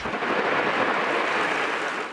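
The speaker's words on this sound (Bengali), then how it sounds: "মেঘের গর্জনের সঙ্গে ঝোড়ো বাতাস" Steady, loud wash of heavy rain with a deep rumbling undertone of thunder during a storm, continuous throughout with no pauses.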